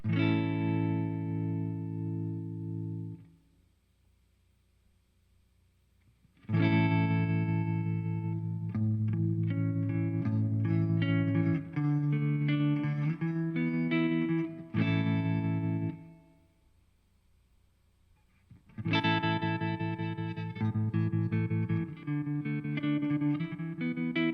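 Electric guitar played through a Laney LF Super 60-watt 2x12 combo amp, loud sustained chords and melodic runs with effects and light distortion, in two long passages split by a short near-silent pause.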